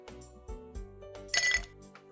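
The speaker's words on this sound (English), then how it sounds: "Add in a few cubes of ice in a glass." Ice cubes drop one by one into an empty glass while an almond milkshake is served, a few sharp, close clinks spaced out, ending in a brighter rattle as the last cubes settle.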